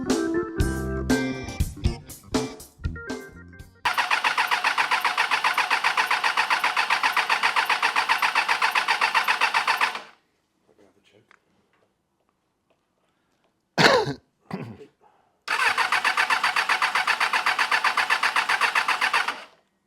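A Suzuki Bandit cafe racer motorcycle cranked on its starter: a few stuttering attempts, then a long steady whirring crank cut off to silence, a short burst, and another long crank, close and loud.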